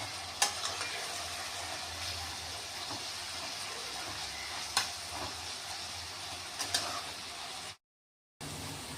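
Poha tempering with onion and spices simmering in water in a pan, a steady broad hiss and bubbling with a few light clinks, close and continuous, cut briefly by a short silent gap near the end.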